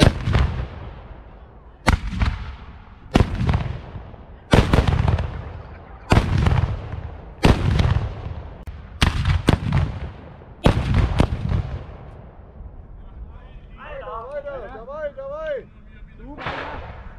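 Cannon shots boom out about eight times in a steady sequence, each a loud, close blast with a rumbling decay, before a wavering tonal sound rises near the end.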